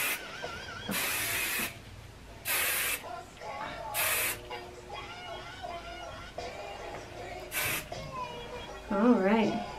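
Hairspray hisses from an aerosol can onto hair in several short bursts of a second or so each, close up, with people talking between the sprays.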